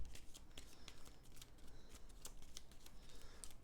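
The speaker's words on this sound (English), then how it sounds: "We shuffle our discard deck" A discard deck of cards shuffled during a Dune Imperium board game, a few seconds of soft, close riffling and sharp snapping clicks at an irregular rhythm.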